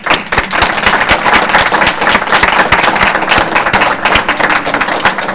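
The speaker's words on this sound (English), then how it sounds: "final round of applause for all our readers" Audience applause at a poetry reading by graduate creative-writing candidates: dense, steady clapping from a full room, sustained at an even level for the whole stretch with no speech over it.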